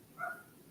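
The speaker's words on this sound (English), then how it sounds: "my dog's barking" A single brief, faint dog bark, a short soft yelp heard at a distance in an otherwise quiet room.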